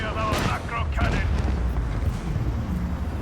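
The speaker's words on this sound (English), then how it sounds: "Show them the fury of our macro cannon." Macro cannon fire from a warship in the Warhammer 40k Rogue Trader video game, a rumbling burst of booms and whooshing blasts early on, trailing into a low roar with a voice speaking over it.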